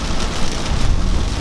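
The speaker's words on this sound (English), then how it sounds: "Oh my god, this rain" Heavy rain drumming on a car while driving, a dense, loud, continuous wash of spatter and road rumble with no voices.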